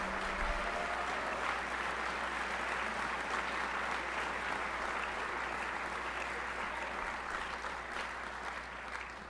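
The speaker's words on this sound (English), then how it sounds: "let's give a round of applause." An audience at a Boys State general assembly gives a long round of applause, a dense, even wash of clapping from a large crowd that holds steady and tapers slightly near the end.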